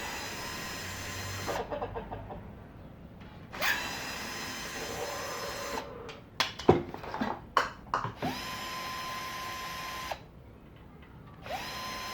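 Power tool whirring in repeated bursts as screws are backed out of a panel on a freestanding gas oven with a hob, with a few sharper clanks and knocks partway through; no talking.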